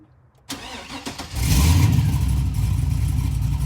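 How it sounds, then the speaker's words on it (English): A Mazda RX-7 FD3S rotary engine cranks with a few uneven starter turns, then catches and settles into a loud, steady, rough-sounding idle close by. "we're gonna try to start it up with this."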